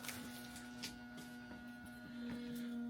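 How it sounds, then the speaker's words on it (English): A steady electrical buzz with a fixed tonal hum runs in the background of a quiet room, with faint shuffling and small handling noises over it. No one talks. "You can hear that buzzing in the background."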